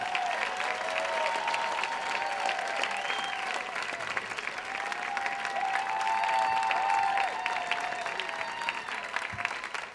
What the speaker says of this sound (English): Turn that into a bigger round of applause for Alethea as she comes up.